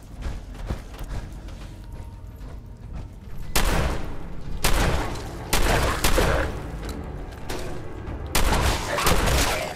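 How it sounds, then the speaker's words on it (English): Shotgun blasts in the video game Fallout 4, several loud bursts from about three and a half seconds on, each with a booming tail, over a steady rumble of game background noise. "This shotgun's actually shit up front."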